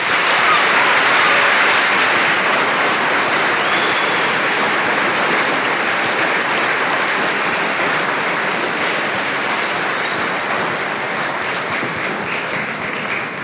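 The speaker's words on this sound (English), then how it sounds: "Another round of applause." Sustained applause from the audience at a Veterans Day ceremony, thanking veterans; steady dense clapping from a large crowd that holds its level for the whole stretch and tapers only slightly at the end.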